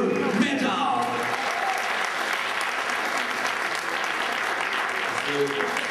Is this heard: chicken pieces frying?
no